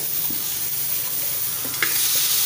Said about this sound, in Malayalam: ഇനി നമുക്കിതിലേക്ക് ഈ ഇറച്ചി കഷ്ണങ്ങൾ നമുക്കിടാം